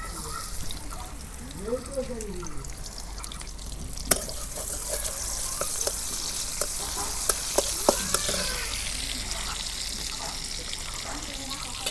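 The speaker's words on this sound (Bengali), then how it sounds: "পেঁয়াজ কুচি দিয়ে দিই।" Chopped onions drop into hot oil in a pan for a taki fish dish with peas and tomato, setting off a steady, hissing sizzle with occasional stirring clicks, while someone talks briefly over it.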